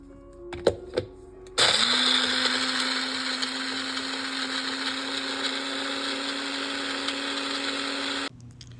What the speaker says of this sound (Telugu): జాపత్రి వేసి ఇవన్నిటిని మిక్సీ పట్టేసుకోవాలి